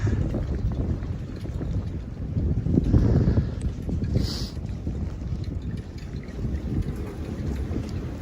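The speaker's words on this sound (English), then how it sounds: "Oh, the wind just picked up like crazy." Strong winter wind gusts and buffets the microphone with a steady, loud roar on a snowy plowed street in Ottawa, Canada, swelling and easing throughout.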